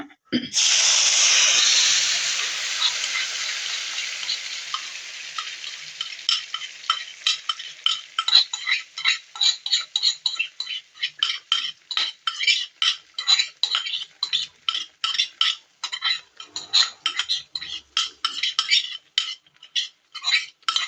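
Ground masala hits a hot pan for mutton thanni kolambu with a sharp hissing burst, then settles into quick, rhythmic scraping and clinking of a spoon stirring it against the metal.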